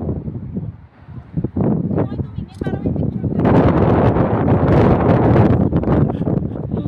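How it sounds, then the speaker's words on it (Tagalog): Wind gusts across a hilltop park in Dammam, Saudi Arabia, roaring into the microphone and growing steadily louder and denser midway, with a voice talking in the foreground. "Ang sarap ng hangin guys."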